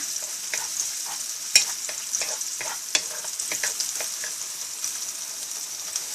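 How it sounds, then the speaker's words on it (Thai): Chili and garlic stir-fried in oil in a hot wok or pan, a steady close hiss of frying with scattered sharp clicks and scrapes of a spatula, no voices. "พริก ไปผัดนี่ ผัดพริกให้หอมนะคะ"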